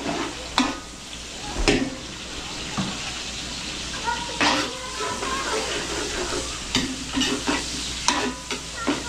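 Garlic and onion sautéing for menudo in a catering kitchen in Quezon City, a steady frying sizzle with repeated stirring scrapes and clatters close by, a voice now and then over the cooking.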